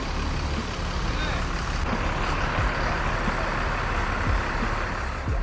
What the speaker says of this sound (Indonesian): Biar dia mundur dulu.